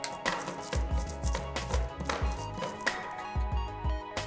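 Steady, rhythmic pounding of a pestle grinding garlic and coriander in a mortar, repeated dull thuds at a moderate pace, close up with no talking.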